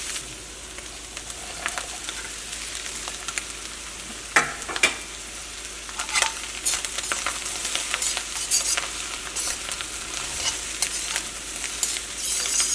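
Chicken and capsicum stir-fry in a hot pan for chicken fried rice, a steady bright sizzle with scattered crackles and spatters running through the whole stretch, no voices.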